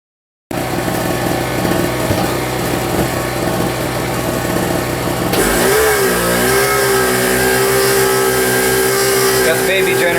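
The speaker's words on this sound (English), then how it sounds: "Got the baby generator running." A small generator runs as a loud, steady engine drone; partway through, the engine note shifts and settles into a higher, rougher hum.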